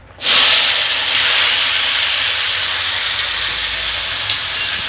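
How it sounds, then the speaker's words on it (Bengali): Potato and bottle gourd peels dropped into hot oil burst into a loud, steady hiss that starts abruptly and holds nearly unchanged, with a faint extra crackle near the end and no talking. "তার মধ্যে আলু আর লাউয়ের খোসাগুলো একসাথে করে তেলের মধ্যে আমি দিয়ে দিলাম"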